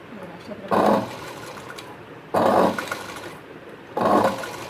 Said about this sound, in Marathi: आता हे असं करून किनारी शिलाई मारायची